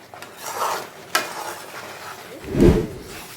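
Thick mango pachadi with coconut is stirred in a pan, giving close scraping and sticky slapping strokes with a light sizzle underneath and a heavier thud near the end.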